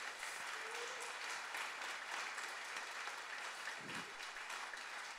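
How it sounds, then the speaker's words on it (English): Steady applause fills a baptism service, a dense wash of many hands clapping from the congregation, even in loudness throughout with no voices standing out. "Let's give her a round of applause."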